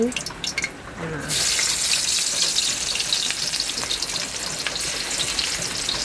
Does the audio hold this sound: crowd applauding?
no